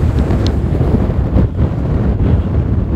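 Strong wind buffets the microphone on the summit of Litlihrutur Mountain in Iceland, near an erupting volcano, a steady loud roar with gusts throughout and no voices.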